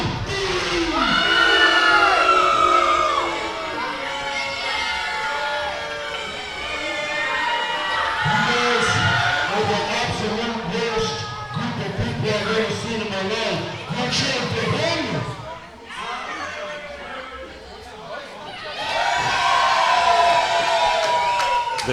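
A crowd cheers and shouts on cue after a count of three, with children's voices mixed in. The cheering is loud and sustained, with brief dips and a fresh swell near the end.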